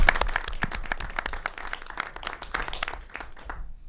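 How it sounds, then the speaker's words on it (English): Applause at a board meeting: a room of people clapping steadily for about three and a half seconds, then thinning out and fading away at the end. "Now the applause."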